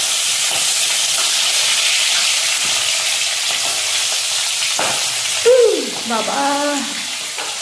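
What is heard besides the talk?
folui fish frying in a pan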